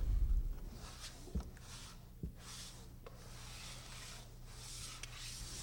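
Wood filler troweled across a parquet floor makes soft, repeated rubbing and scraping strokes at moderate level, with a low hum underneath.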